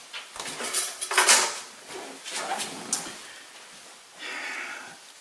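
A cast iron skillet handled in a kitchen, with scattered metallic clanks, scrapes and utensil clatter in uneven bursts at moderate volume, no speech.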